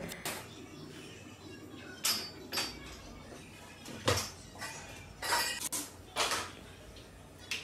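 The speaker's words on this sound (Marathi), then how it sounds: "तर हे सगळी भांडी मग आवरून घेतली" Dishes clink and clatter in short separate bursts, several knocks of pots and utensils being handled and set down nearby, with quiet gaps between.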